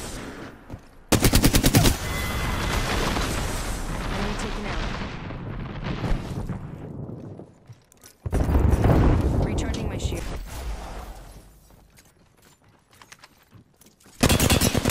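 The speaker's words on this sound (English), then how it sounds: "I'm taking shots." Heavy automatic gunfire and explosions in a battle royale shooter, loud and sustained in long bursts with brief pauses, ending in another sharp volley, while a player talks over the action.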